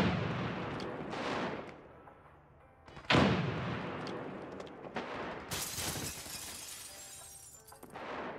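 A grenade blast in the shooter game America's Army: one sharp, loud burst about three seconds in amid scattered gunfire cracks and debris-like crackling, with later bursts of harsh noise.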